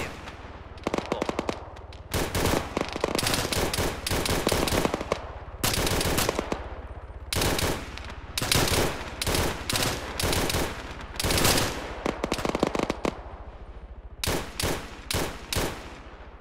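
Sustained automatic gunfire in the military video game Arma, long rattling bursts separated by short pauses, loud and close, with no talking.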